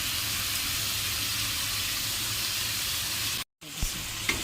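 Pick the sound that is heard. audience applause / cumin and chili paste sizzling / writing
cumin and chili paste sizzling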